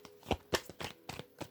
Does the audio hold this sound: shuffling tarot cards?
yes